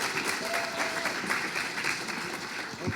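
Steady crowd applause at a UK property investing seminar as a speaker takes the stage, a continuous wash of many hands clapping at moderate distance.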